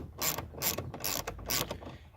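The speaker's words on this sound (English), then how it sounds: "grab your 8mm and extension and start loosening this bolt" A ratchet fitted with an 8mm socket and an extension loosens a bolt behind a car door panel, giving four or five quick bursts of clicking pawl sounds at a steady pace, close but fairly quiet.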